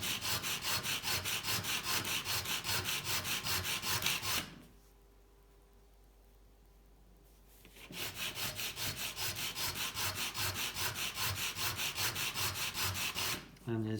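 Rapid rhythmic sanding strokes on a 1:64 Hot Wheels Fiat 500 Abarth 695 die-cast model car, loud and close, running steadily for about four seconds, pausing briefly, then resuming for the rest.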